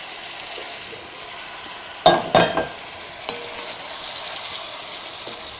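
Wine sauce poured into a chicken cacciatore stew lets out a couple of sharp, loud hissing sizzles that fade quickly, followed by faint stirring and clinks over a quiet background.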